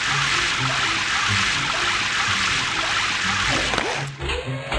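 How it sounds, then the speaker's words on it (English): A cartoon car wash sprays water over a muddy truck, a steady hissing gush with a faint musical tone underneath, ending in a brief swish and a short bright chime. "Spray water first."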